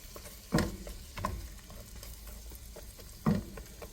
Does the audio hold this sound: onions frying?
yes